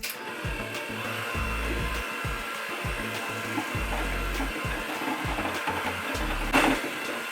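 Electric stand mixer beating chocolate chip brownie cookie dough at low speed, a steady whirring hum with rhythmic thumps as the dough churns, continuous and close with no talking.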